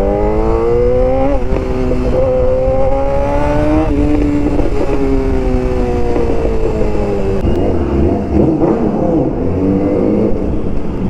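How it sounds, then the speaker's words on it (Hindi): A 600 cc motorcycle engine revs hard, its tone climbing in repeated loud surges before settling into a rougher, lower drone, heard close and continuous throughout. "ये मैं 600 cc का बाइक चला रहा हूँ या 1000 cc का"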